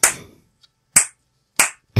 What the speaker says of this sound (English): Slow clap it out for Peter Parker.